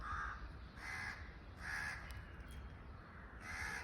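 Crows cawing in a forest, several harsh calls repeating at a steady pace over a soft, constant background hiss, with no voices.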